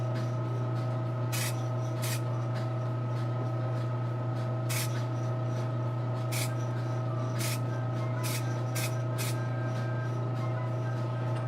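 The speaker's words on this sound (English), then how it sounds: "So just kind of spray far away and" Short bursts of spray paint from an aerosol bottle coat an anime model kit, about nine separate hisses spaced irregularly over a steady low hum in the room.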